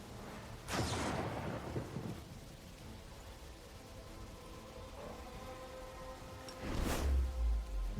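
Thunder from a lightning storm in the fantasy RPG Pathfinder: Wrath of the Righteous, with two loud rumbling cracks, one near the start and another toward the end, over a steady bed of rain.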